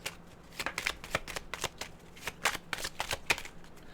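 Tarot cards are shuffled by hand in quick riffling bursts, a rapid series of crisp flutters and taps heard close up with no voices.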